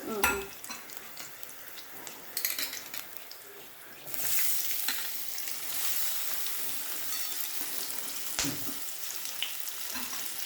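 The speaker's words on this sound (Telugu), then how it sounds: "ఇప్పుడు కూర ముక్కలు వేసుకుంటాం." Potato and carrot pieces sizzle and fry in a pan of masala rice as a utensil scrapes and stirs them, the hiss swelling louder partway through with occasional clinks of metal against the pan.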